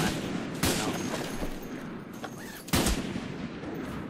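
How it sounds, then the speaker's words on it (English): Video game gunfire, with sharp automatic bursts at about 0.6 s and 2.7 s above steady mid-distance firing. Faint voices sit underneath. "I don't see how all these shots are missing"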